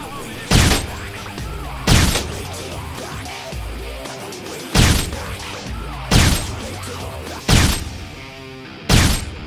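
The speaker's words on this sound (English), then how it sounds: "You shoot him a couple times." Sniper rifle shots in the zombie game Dead Rising 2, six loud, sharp cracks spaced a second or two apart over a busy backdrop of game sounds and ambient noise.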